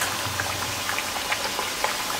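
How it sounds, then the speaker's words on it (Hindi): Jaggery-sweetened dough twists studded with sesame sizzle in hot oil over a very low flame, a close, steady bubbling and popping with small crackles scattered throughout. "अब मीठी गुड़ की सांकली है, उसको फ्राई कर रहे हैं"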